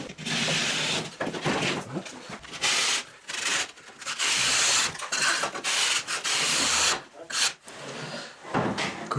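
A hand saw cuts through Glasroc H Ocean plasterboard for an Italian-style shower, its rough rasping strokes repeating in a steady back-and-forth rhythm, loud and close, with brief pauses between bursts.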